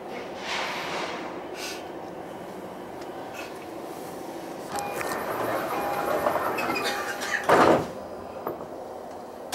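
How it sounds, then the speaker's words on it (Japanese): Sliding doors on an E231 series commuter train close near Chiba, a muffled mechanical thud and rattle amid cabin rumble, with chimes and a sharp burst of door noise toward the end. "岩井線のドアが閉まります。"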